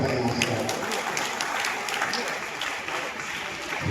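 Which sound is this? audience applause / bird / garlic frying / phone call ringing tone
audience applause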